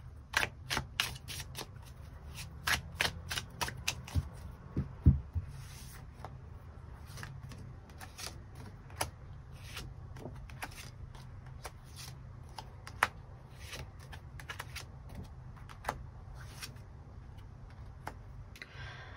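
Tarot cards shuffled by hand, with a quick run of sharp, crisp riffling clicks at first, then sparser soft snaps and rustles at low volume.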